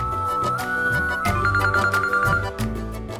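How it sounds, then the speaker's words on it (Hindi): A telephone ringtone plays a repeating electronic melody, fairly loud, continuing steadily for the whole stretch with no talking. "लो, जूही का फोन भी आ गया"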